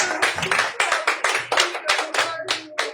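Rhythmic hand clapping from a church congregation at a Spanish-language Pentecostal service, steady beats repeating about every quarter second, close and loud with faint voices underneath.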